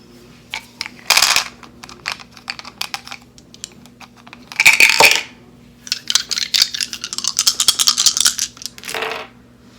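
Dice rattle and clatter across a surface during a pick-a-card reading, heard as several separate bursts of close, sharp clicking with quiet gaps between rolls.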